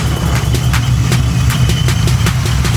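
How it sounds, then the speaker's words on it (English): A Corvette Z06 fitted with a Procharger supercharger runs close by, its engine idling steadily with a few short blips of revs punctuating the low, continuous rumble. "Give it a couple of revs."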